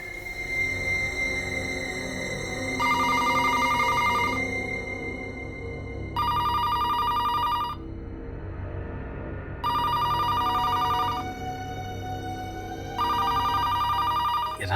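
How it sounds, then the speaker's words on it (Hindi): Telephone ringing at night in a CID crime drama: four loud, regular bursts of electronic ringing, each a couple of seconds long with pauses between them, over a low background score. "रात को 3 बजे किसका फोन आ सकता है?"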